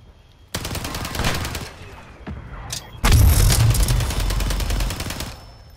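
Gunfire in a Call of Duty battle royale quads match, with dense rapid bursts of shots in two loud stretches and a heavy, booming second volley, close and harsh.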